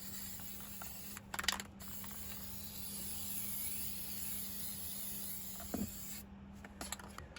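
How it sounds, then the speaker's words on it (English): Rust converter is sprayed onto rusted floor areas of a Ford Ranger pickup in short, close hissing bursts, one early and a couple near the end, over a steady low background hum. "I'm going to be spraying this rust converter on some of these areas to help stop some of the damage"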